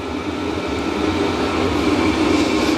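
An HCalory 8KW Toolbox 2s PLUS portable diesel heater runs in a cold workshop, giving a steady, loud, continuous whoosh and hum with a low rumbling roar that holds even throughout.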